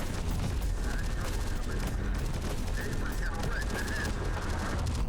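Sustained gunfire in the Terminator: Dark Fate Defiance strategy video game, a dense rattle of overlapping shots and automatic bursts over a constant loud battle din, with faint voices mixed in.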